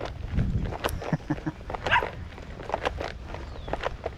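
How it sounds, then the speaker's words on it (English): A small dog outdoors near a bass-fishing spot lets out a series of sharp, close barks in an irregular rhythm, with some light footstep-like rustling in between. "Got a little doggy over there that's gonna bark at me here in a moment."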